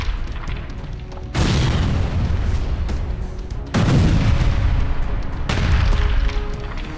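Israeli air strikes on Gaza produce three heavy, loud blasts a couple of seconds apart, each a deep boom followed by a long rumbling roar.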